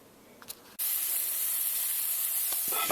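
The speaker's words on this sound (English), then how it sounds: "finish up browning up the meat" Meat browning in a frying pan for a grilled beef and cheese sandwich, a loud steady sizzle that bursts in suddenly after a quiet moment and keeps hissing close up.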